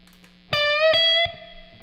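Electric guitar with its delay effect switched off, playing a few dry, distorted notes with ringing harmonics from about half a second in, sustaining briefly, then cutting off; an amplifier hum lingers before and after.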